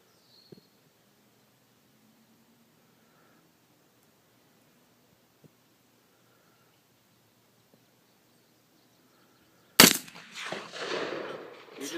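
An AR-15 rifle fires a single sharp, loud shot at an outdoor range, followed by a brief rumbling echo, after a long near-silent stretch with only faint small noises.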